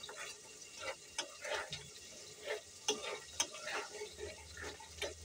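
Spatula stirring food in a frying pan, producing soft, irregular scraping and clinking taps close by with a light sizzle underneath, fairly quiet overall.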